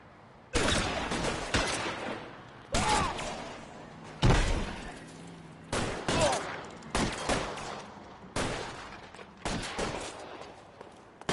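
Loud, separate gunshots in the video game L.A. Noire, each sharp crack fading out, fired every second or two in an irregular exchange over a quiet background.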